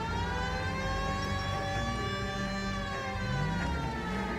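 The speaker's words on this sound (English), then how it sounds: "Press L3 to use the siren." A police car siren in the video game L.A. Noire wails continuously, its rising and falling tones sweeping steadily throughout with no pauses.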